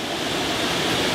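A waterfall pours steadily with a dense, broadband rush of falling water, loud and close, unbroken and without voices.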